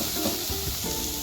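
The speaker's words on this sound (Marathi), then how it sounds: "सगळं असं परतून घ्यायचं आहे आपल्याला." Vegetables stir-frying in a kadhai for veg momos, a steady close sizzle with scraping stirring strokes, alone without talk.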